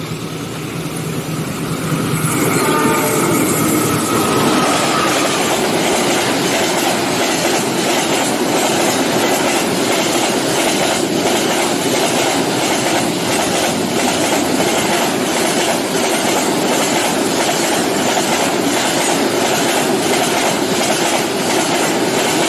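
Train wheels clattering along the rails in a steady rhythmic clickety-clack, loud and close, building from a quieter start into a continuous rolling roar.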